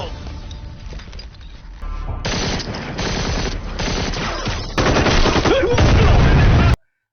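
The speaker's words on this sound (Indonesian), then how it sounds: "Iqbal lalu menyuruh Hanif untuk menyerang pasukan Mayor Samer sehingga terjadi baku tembak" Gunfire rattles through a battle between soldiers and armed attackers in an Indian action film, bursts of rapid shots and metallic mechanical clatter building in loudness over several seconds before cutting off abruptly into silence.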